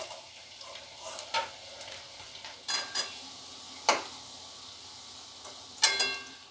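Golden brown potato rolls being lifted one by one out of hot frying oil, with a soft steady sizzle broken by several sharp clinks and scrapes of the utensil.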